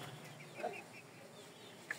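A couple of soft, brief clucks from farm chickens, faint and close, against quiet background on a small farm that also keeps quail.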